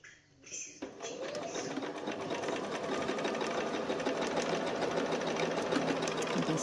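A Bernina 1030 Swiss sewing machine runs a steady, fast stitch, its needle chattering in an even mechanical rhythm close up after a brief start.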